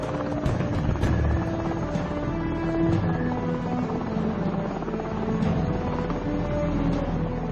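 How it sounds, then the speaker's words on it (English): A helicopter taking off from a ship's deck, its rotor thumps and engine roar filling the air continuously, loud and close, with a dense rumbling low end and no pauses. "The helicopter heads out to scan the minefield."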